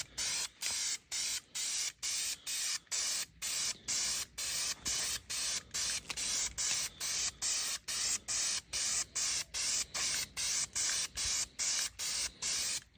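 Aerosol spray paint can laying a base coat onto a rifle, heard as a long run of short, even hissing bursts with brief gaps between them, steady and close with no talking.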